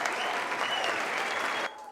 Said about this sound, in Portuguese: Mais palmas, mais palmas, mais palmas, mais palmas, mais barulho aí.